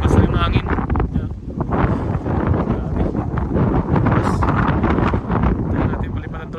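Strong wind buffets the microphone on a mountain where a road is being built, a loud, continuous low roar with gusts, and people talk over it.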